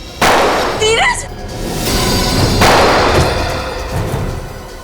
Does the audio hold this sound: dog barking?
no